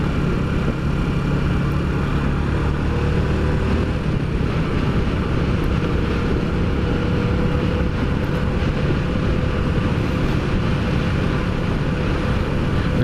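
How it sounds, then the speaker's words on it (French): An Astor car's engine drones steadily while driving, a dense, continuous low rumble mixed with road noise, loud and unbroken, with no talking. "je vais vous laisser profiter de la vue et du son du moteur"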